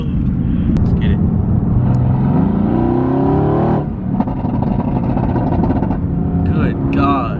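A 700-horsepower Mercedes-Benz AMG GT S accelerates hard, its engine roaring and rising in pitch from inside the cabin, then easing before building again, with voices talking over it.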